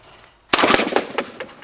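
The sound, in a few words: shotgun shot breaking a skeet clay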